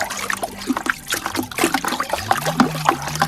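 Water poured into a container of about four liters to dissolve a concentrated root hormone solution, a close, uneven splashing trickle with gurgling bursts throughout.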